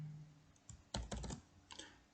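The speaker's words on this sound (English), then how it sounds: "you press any key on your keyboard" Several keys pressed on a computer keyboard during console programming, a few soft clicks then a quick cluster of clacks and two more taps, close and fairly quiet, no talk.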